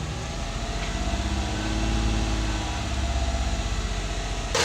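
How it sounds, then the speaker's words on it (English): A Ford Escape engine running steadily as the throttle is held up during warm-up, with a misfire, a continuous close mechanical drone with a broad low hum that stays loud throughout. "I want to help this thing warm up a lot faster, so I'm just going to give it some throttle,"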